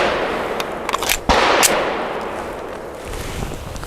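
A Grand Power P1 Ultra pistol fires a PPU 158 grain subsonic round, a single soft, muffled report near the middle of an outdoor range, with a faint echo and quiet background afterward.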